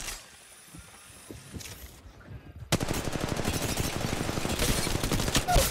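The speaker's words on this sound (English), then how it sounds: "I'm getting shot here." Apex Legends Mobile firefight: after a quieter stretch with scattered faint shots, loud rapid automatic gunfire erupts and continues as a close, dense burst to the end.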